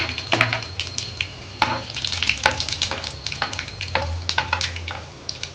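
Mustard seeds, cumin, chana dal and dried red chillies frying in oil in a pan, a close busy sizzle with repeated sharp scrapes and taps of a spoon stirring against the metal.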